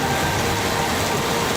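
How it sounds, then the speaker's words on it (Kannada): Steady heavy rain falling in Shivamogga city, Karnataka, during a thunderstorm, a dense continuous hiss throughout with no voices. "ಶಿವಮೊಗ್ಗ ನಗರದಲ್ಲಿ ಗುಡುಗು ಸಿಡಿಲ ಸಹಿತ ಉತ್ತಮ ಮಳೆಯಾಗಿದೆ"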